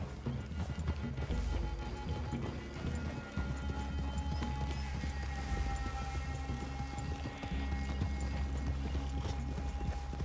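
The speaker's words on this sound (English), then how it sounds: "I'd leave your horses the other side of this clearing." Horses walking in Red Dead Redemption 2, with steady clip-clop hoofbeats in a loud, continuous rhythm, over a low rumbling background and faint hints of voices.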